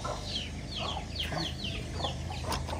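A flock of chickens gathered at feeding time while millet is scattered, clucking and chattering softly in overlapping bursts over a low outdoor background hum, heard close and at a moderate level.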